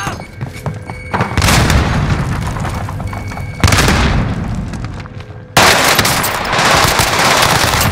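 Heavy gunfire and booming blasts from a Call of Duty Modern Warfare firefight, with a grenade thrown amid the shooting; loud dense bursts come in three surges, each starting with a sharp jump in level.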